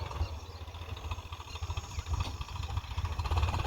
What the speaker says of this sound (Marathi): आणि ट्रॅक्टर आलं